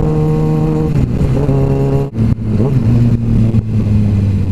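Sport motorcycle engine revving while riding, a loud close steady drone that shifts pitch through gear changes, with brief dips between pulls.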